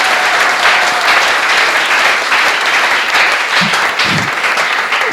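A church congregation applauds during a French-language sermon, with steady, dense clapping from many hands that fills the space throughout.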